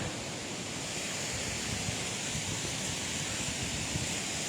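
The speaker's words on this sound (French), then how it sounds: "On est sur la cascade des Tuffes à proprement parler." The Cascade des Tuffes waterfall at Baume-les-Messieurs gives off a steady, broad roar of falling water, constant and fairly close, with no voices over it.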